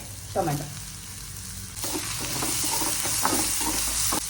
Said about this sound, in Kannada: 1-2 ನಿಮಿಷ ಲೋ ಫ್ಲೇಮಲ್ಲಿ ಬೇಯಿಸಿ, ಅದು ಕ್ಯಾಬೇಜ್ದು ಹಸಿ ವಾಸನೆ ಹೋಗೋವರೆಗೂ 1-2 ನಿಮಿಷ.